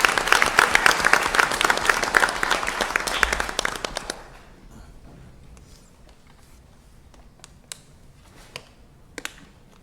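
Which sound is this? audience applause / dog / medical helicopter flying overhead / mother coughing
audience applause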